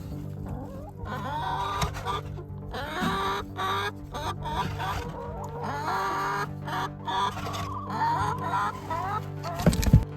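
Hens clucking in a garden, a busy run of close, overlapping clucks and squawks that goes on throughout with no talk over it.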